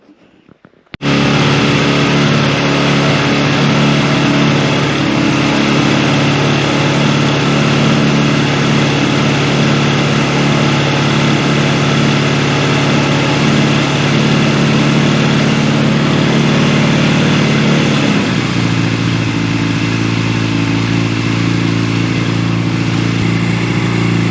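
A mini bike's small engine starts and runs steadily at a high idle, loud and close with a buzzy, continuous drone that drops slightly in pitch near the end.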